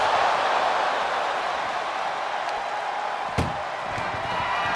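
An ambulance door slams once during a WWE wrestling match, a single sharp bang rising briefly above the loud, steady roar of an arena crowd.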